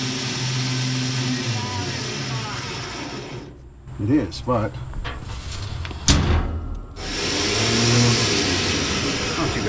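A newly installed winch motor on a car trailer runs in loud bursts with a mechanical whine and ratcheting, pausing briefly in the middle while a person says a few words, then running again.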